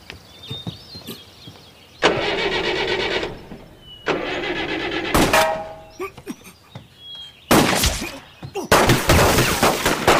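A halftrack's engine cranks and turns over in three loud, harsh bursts separated by short pauses, with faint rattles and clicks in between and no talking.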